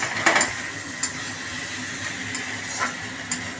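Bengali fish-oil chachchari sizzles with a low, steady hiss in a pan while being stirred, with occasional soft scrapes and clinks rising above the continuous frying.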